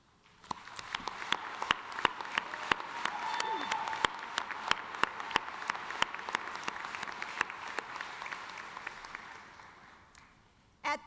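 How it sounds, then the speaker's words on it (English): A graduation commencement audience breaks into a round of applause, dense sustained clapping with sharp individual claps standing out, building and holding for about ten seconds before fading. "join in a round of applause for each other"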